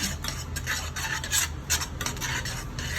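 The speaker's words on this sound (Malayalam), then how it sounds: "ഉരുകി തുടങ്ങി ഇനി നല്ല ഡാർക്ക് കളറാവും അതുവരെ ഒന്ന് ഇളക്കി കൊടുക്കണം" Melting sugar for a plum cake caramel stirred in a pan, a close, rhythmic scraping and rubbing of a spoon against the pan, repeated strokes, no voices.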